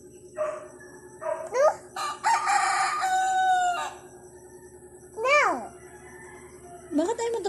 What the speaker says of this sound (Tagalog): Milaok yung manok.